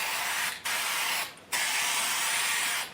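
Three bursts of aerosol spray put a light coating onto the backs of paper sheets, each a steady close hiss with short pauses between, and no voices.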